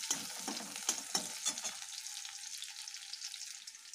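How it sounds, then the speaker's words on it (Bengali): Dal tempering with dried red chilli, garlic and green chilli sizzles in hot oil, with a few clattering stirs at first before a steady, close hiss carries on alone. "ডাল ফোড়ন দেওয়া হয়ে গেছে"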